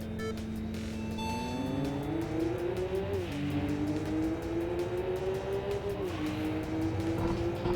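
In the racing video game Tokyo Xtreme Racer, an FD RX-7 and a rival car roar along together, engines droning loud and steady as pitch climbs and drops with gear shifts, with no one speaking.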